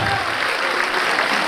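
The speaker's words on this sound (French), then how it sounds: "Et on applaudit bien fort" Dense, loud applause from an audience at a J&J Social dance competition final, continuous clapping filling the whole stretch with no pauses.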